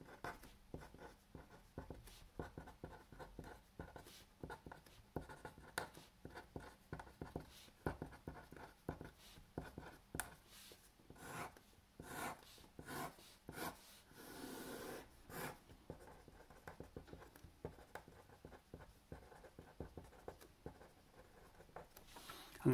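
Pen drawing a table on paper for a chemistry answer, with steady scratchy strokes and short rubbing lines that run near and clear through the whole stretch, no talking.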